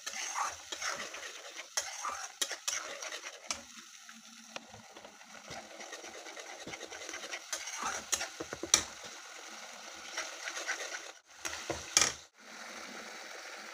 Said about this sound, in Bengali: ভালোভাবে নাড়িয়ে চাড়িয়ে 15-20 মিনিটের মতো নাড়াবো চাড়াবো।